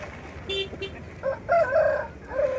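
Roosters and chickens at the weekly Gudur fowl market in Andhra Pradesh crow and cluck in short bursts, close and fairly loud, with faint market bustle behind.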